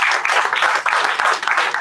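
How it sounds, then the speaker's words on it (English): An audience at a solo graduation performance event applauds the students, a brief burst of dense, steady clapping from a full room. "I want to ask you to kindly give a round of applause for all of our"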